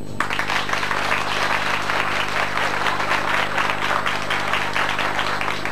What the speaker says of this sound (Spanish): El aplauso premiaba la actuación